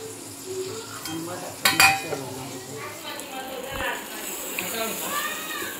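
Vada fish pieces frying in a pan give a steady close sizzle, with clinks of utensils against the pan and a sharp metallic clatter near the start, while a person talks over parts of it.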